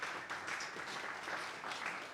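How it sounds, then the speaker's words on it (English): A conference audience gives a round of applause at a regional music keynote, a brief, fairly faint patter of many hands clapping at once, steady for about two seconds. "Yeah, round of applause."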